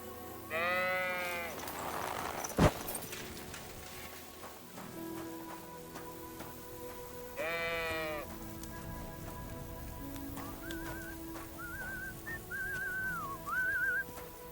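Sheep bleating on a farm in the video game Kingdom Come Deliverance II, two separate wavering bleats a few seconds apart, moderately close, over quiet ambient background with faint whistling tones later.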